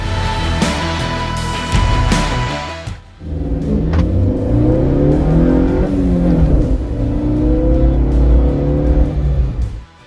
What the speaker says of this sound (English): Let's drive the car and see whether this has slightly increased the power or the torque or the mileage.